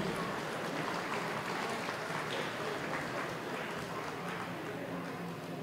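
Audience applause at an outdoor farewell program for bands in Santa María Tepantlali, a steady even wash of many hands clapping, moderately distant and sustained throughout.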